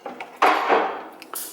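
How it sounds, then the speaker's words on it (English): Plates and dishes are lifted out in a rental-home kitchen, giving a few close ceramic clinks and a louder clattering knock midway, with a brief quieter rattle near the end. "she's getting the plates out"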